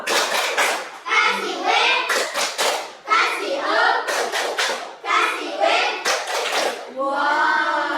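A school class stands and performs a rhythmic clapping chant, sharp patterned claps in bursts alternating with children chanting words together, loud and close in a classroom.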